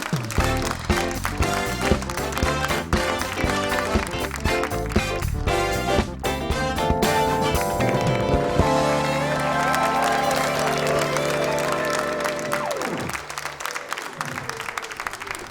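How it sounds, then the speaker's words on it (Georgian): A studio audience on a Georgian late-night TV show claps and cheers to welcome two guests, thick sustained applause over loud band music that cuts off abruptly near the end. "აპლოდისმენტებით შევეგებთ."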